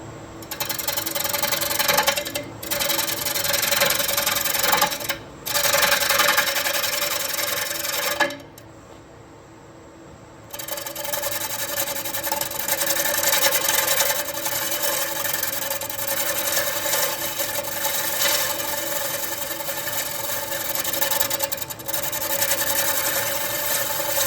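A bowl gouge shaves a wooden bowl spinning on a lathe, flattening the surface with a loud continuous rasping, scraping hiss. The cutting breaks off in a few short pauses and one longer gap, with no talk.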